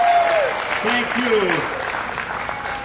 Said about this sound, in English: a big round of applause for this amazing lady